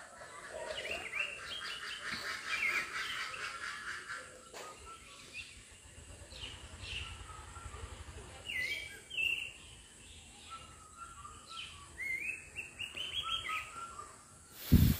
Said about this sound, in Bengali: পাখিগুলো কি সুন্দর ডাকে